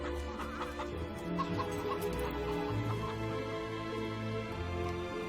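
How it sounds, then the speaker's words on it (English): Chickens clucking in the video game Fable 3, a few soft clucks and murmurs over a constant low background hum, faint and unhurried, with no talk. "keep my ears peeled for some chicken sounds."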